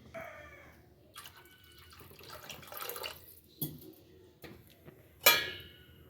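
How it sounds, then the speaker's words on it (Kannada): Water is poured into fenugreek chakli dough in a bowl: faint, brief splashes and trickles separated by quiet gaps, with one sharper splash near the end. "ಇದಕ್ಕೆ ಇನ್ನೂ ಒಂದು ಅರ್ಧ ಗ್ಲಾಸ್ನಷ್ಟು ನಾನು ನೀರು ಆ್ಯಡ್ ಮಾಡ್ತೇನೆ ರೀ"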